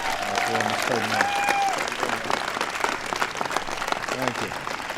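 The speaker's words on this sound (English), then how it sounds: "So please give a big round of applause for Mr. Peyton Manning." Audience applause at a White House event honoring the Super Bowl champion Denver Broncos, a steady wash of clapping filling the room for several seconds while a few voices and cheers rise over it.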